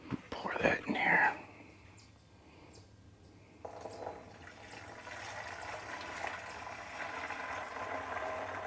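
Vinegar pours into a garden pump sprayer in a steady, soft splashing stream that grows louder and continues to the end, after a brief burst of faint, whispery voice at the start.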